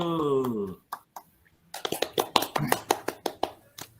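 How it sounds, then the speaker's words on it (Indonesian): Children in an Indonesian classroom clap in a short burst of sharp, rhythmic claps, near and fairly loud, following a brief spoken voice. "tepuk tangan dulu"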